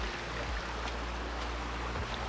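A small mountain stream runs beside a pipe feeding a micro hydro water wheel, giving a steady broadband rush and burble with faint low rumbling. It continues evenly at low level with no voices.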